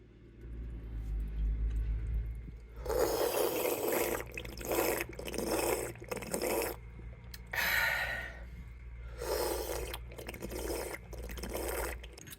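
Water gushes from an outdoor drinking fountain in several separate spurts of splashing, each a few seconds long, close by with no talking.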